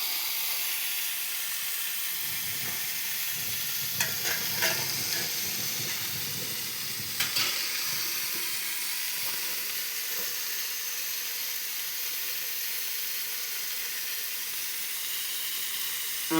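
Soybean masala fry sizzling in a pan after turmeric powder goes in, a steady even hiss of frying throughout, with a few faint clinks of a spoon, close and moderate, no talking.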